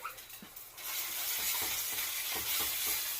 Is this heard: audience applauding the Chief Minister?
no